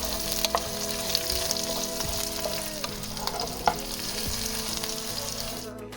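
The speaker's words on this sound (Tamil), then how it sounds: "எடுத்து வச்சிருக்கிற வரமிளகாய், ஜீரகம், வெங்காயம், தேங்காய் எல்லாத்தையும் சேர்த்து ஒரு 5 நிமிஷம் நல்லா வதக்கி எடுத்துக்கலாம்." Red chillies, cumin, onion and coconut sautéing in a pan, a steady soft sizzle with occasional stirring clicks and scrapes, close and without voices.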